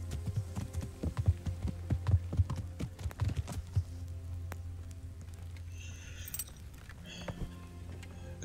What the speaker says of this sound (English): Good horse. You got a lot of stamina.